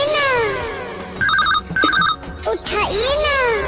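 Telephone ringing in an Awadhi comedy sketch, a few bursts of bright electronic ringing that cut in and out, loud and close, surrounded by sweeping musical tones and brief voices.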